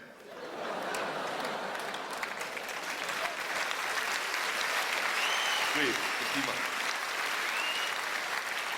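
Audience at a comedy gala applauding, a steady, dense wash of clapping that rises quickly and holds throughout, with a short spoken remark and some laughter under it.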